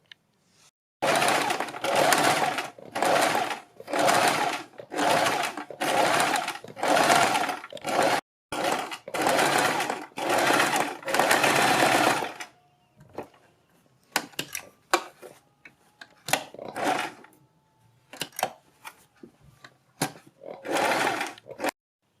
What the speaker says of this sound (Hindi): इसके बाद हम बुकरम के बिल्कुल बराबर में पूरे गले के ऊपर एक सिलाई लगा देंगे